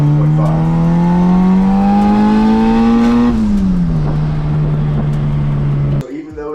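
A turbocharged Suzuki Vitara with a D16 engine and an eBay GT35 turbo, running about 9 psi on conservative timing, revs loudly with a strong droning note that climbs steadily, eases back down, holds, then cuts off suddenly.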